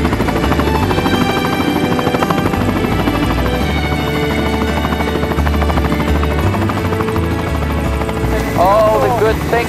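A helicopter's rotor drones loud and close as it comes in to land, a steady thudding buzz that fills the cabin. Voices talk over it throughout.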